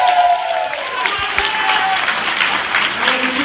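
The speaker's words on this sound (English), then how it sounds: "Round of applause for Garrett." Loud audience applause at a Chicago Wizard World convention panel, a dense continuous burst of clapping close to the microphone, with a few scattered shouts and crowd voices underneath.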